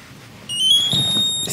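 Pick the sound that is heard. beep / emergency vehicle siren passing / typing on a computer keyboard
beep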